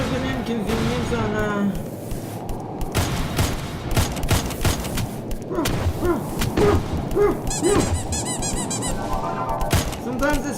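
Rapid pistol shots crack in a first-person game, mixed with squeaks, thuds and other combat effects in a busy, continuous mix while a voice talks over the action.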